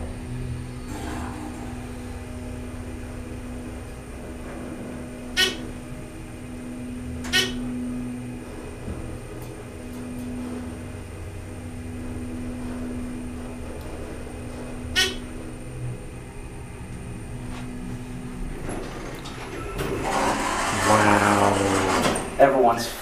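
A Dover hydraulic elevator at the Capitol Visitor's Center hums steadily as its motor runs while the car rises. A few sharp knocks and chimes break in, and voices come up near the end.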